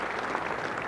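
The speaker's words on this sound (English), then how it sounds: "Applause generously there from Dilley." Steady applause from a cricket crowd at Lord's during a 1989 England v Australia Test, a continuous even patter of clapping with no voices over it.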